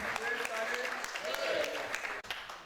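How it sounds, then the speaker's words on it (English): A Nigerian polytechnic staff association audience gives a round of applause at a capacity-building event, fairly faint clapping mixed with voices and brief tonal sounds, cut short near the end. "A round of applause to celebrate"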